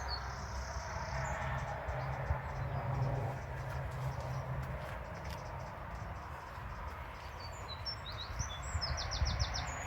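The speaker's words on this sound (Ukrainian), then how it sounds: "і пташки співають" Birds chirp and call in the distance over a steady outdoor background of insect buzz and low hum.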